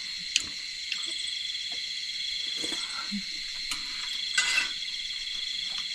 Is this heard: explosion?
no